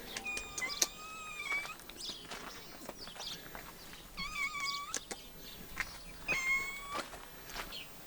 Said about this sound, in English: This is the cutest cat I've ever seen.